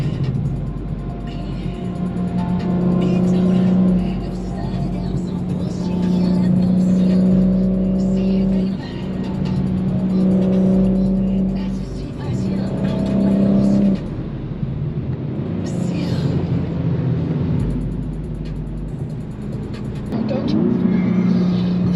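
A BMW G82 M4 Competition engine revving in boost on a drive, with repeated rising and falling pulls of a deep engine note and whine, heard from inside the car with someone talking over it.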